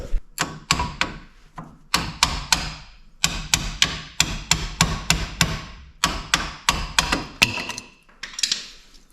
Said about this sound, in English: I'm going to just tap with the hammer lightly on here and here and drive that out